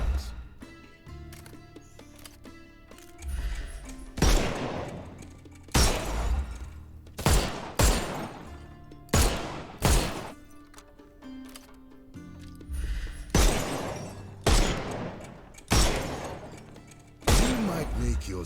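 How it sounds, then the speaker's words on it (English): Gunshots fired at bottles in the video game Sherlock Holmes Chapter One, about a dozen sharp loud bangs with shattering at irregular intervals a second or two apart, with brief spoken voice between shots. "What's with the shooting out there?"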